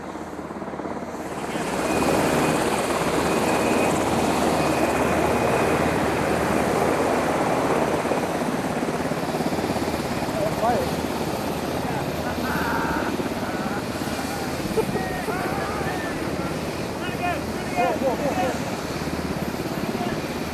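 Loud, steady whir of helicopter rotors running continuously nearby, with faint voices underneath.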